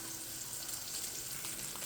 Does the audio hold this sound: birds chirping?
no